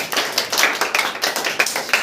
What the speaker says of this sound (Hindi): बहुत अच्छा, ताली मार दीजिए आप लोग।